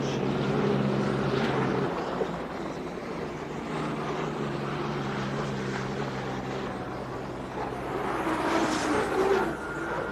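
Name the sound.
jet engine of boat and airplane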